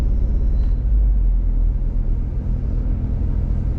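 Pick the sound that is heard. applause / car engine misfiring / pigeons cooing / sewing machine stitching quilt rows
car engine misfiring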